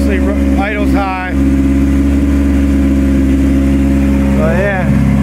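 A car engine running on E85 fuel idles high after a cold start, a loud steady droning hum throughout, with someone talking briefly over it at the start and near the end.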